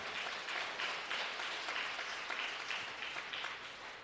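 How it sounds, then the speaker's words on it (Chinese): A church congregation applauds during a Sunday worship service, a steady dense patter of many hands clapping that holds at an even level for the full four seconds, with no voices over it. "我们再一次用热烈掌声谢谢"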